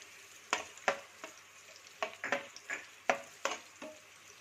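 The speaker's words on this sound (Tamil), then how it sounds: "முந்திரி திராட்சை ஃப்ரை ஆகிடுச்சு." Cashews and raisins fry in a pan while making aval kesari, a sweet poha dish, with soft sizzling and a series of sharp stirring scrapes and taps spread across the clip, close but quiet, with no voices.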